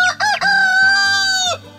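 Australorp chicken crowing and clucking near a mother hen with young chicks in a free-range yard, one loud, close, drawn-out call lasting about a second.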